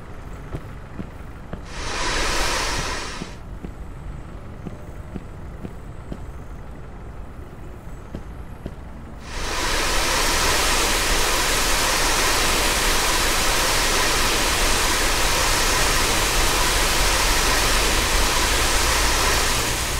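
Water gushes steadily from a fire hose in the Notruf 112 volunteer firefighting video game, a loud continuous hiss starting partway through after a brief earlier burst, with no talking.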